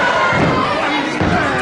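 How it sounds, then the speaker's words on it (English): A wrestling arena crowd reacts with a loud, close wash of murmuring and jeering disapproval, with a thud partway through and a commentator talking over it. "Well, the crowd don't like that"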